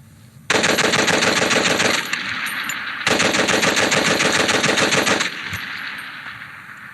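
A Vickers machine gun fires two long, loud sustained bursts of rapid automatic fire, each lasting about one and a half to two seconds, separated by a short gap, with ringing echo afterward and no talking.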